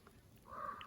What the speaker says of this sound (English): Can hear the raven squawking.